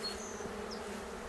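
A swarm of honeybees buzzes steadily and densely around a hive outdoors on a hot day, a continuous low drone with a few brief higher whines of individual bees passing close.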